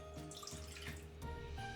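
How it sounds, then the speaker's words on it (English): Cold water pours from a tap into a stand mixer bowl, a quiet, steady trickling stream with faint splashing, close by and without talk. "In that bowl, I'm going to add a half a cup of cold water."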